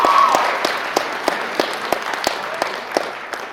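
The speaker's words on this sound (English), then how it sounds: "I will ask that we give them a big round of applause." Audience applause at a naturalization ceremony, a crowd clapping steadily with distinct individual claps standing out, starting loud and easing off slightly.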